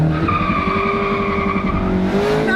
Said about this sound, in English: Now let's see what it can do from a standing start in first gear.